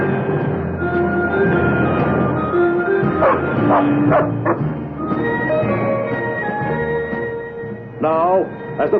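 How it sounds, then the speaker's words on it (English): Cartoon super dog barking in a classic animated adventure, a series of yips and woofs heard over a busy orchestral score, with a narrator talking over the scene. "there's nothing Superboy enjoys more than a workout with his super dog, Krypto"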